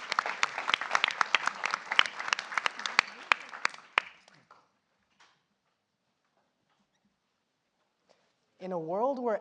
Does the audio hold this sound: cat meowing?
no